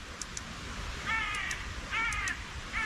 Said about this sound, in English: Birds are going nuts again.